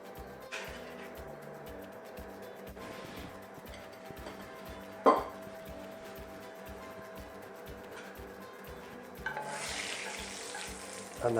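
Breadcrumbs toast in a frying pan with a quiet, steady sizzle, broken by occasional scraping stirs and shakes, one sharp knock, and a brighter burst of sizzling near the end.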